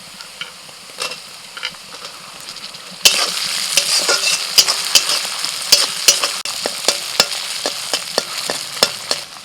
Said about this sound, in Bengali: পেঁয়াজটা এরকম অর্ধেক ভাজা হলে এর মধ্যে আমি দিয়ে দিচ্ছি টমেটো কুচি